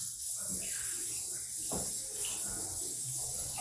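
Water runs from a sensor faucet at an accessible washroom sink while hands are washed, a soft, steady hiss with faint splashing, fairly quiet throughout.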